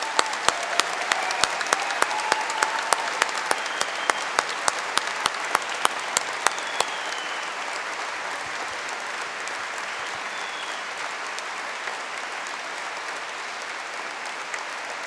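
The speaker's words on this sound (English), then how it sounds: "let's give all these new graduates a big collective round of applause" A large audience at a university business school graduation ceremony claps for new graduates, with a broad continuous applause and a few sharp close claps standing out early before the sound settles into an even roar.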